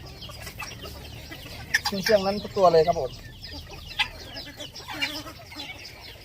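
White-eared Toh chickens, including a buff-colored bird, clucking in a hobby flock, with a few louder squawking bursts near the middle while someone talks over them.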